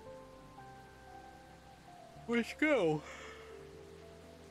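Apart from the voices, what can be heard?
rain falling in the video game Calico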